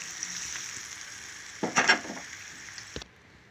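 Oil poured into freshly ground curry leaf chutney, with a steady frying hiss that breaks into a louder, crackling sizzle for a moment before cutting off abruptly.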